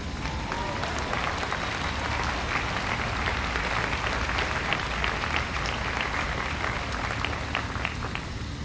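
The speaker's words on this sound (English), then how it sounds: "This is where you clap." Sustained applause from an outdoor audience at Bienville Square in Mobile, Alabama, following a speech; dense, steady clapping from many hands at an even level throughout, with no voices over it.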